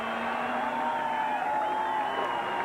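A race crowd at Laguna Seca cheers and roars without a break during the 1993 US Grand Prix motorcycle race, with a steady tone running through the noise.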